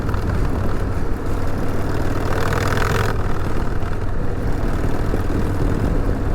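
A motorcycle riding over a washboarded dirt road, its engine a loud, steady, close drone with a constant rough rumble and no talking.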